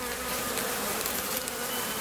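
Honey bees at an urban beehive make a dense, steady buzzing hum that fills the clip, close and constant with no talking.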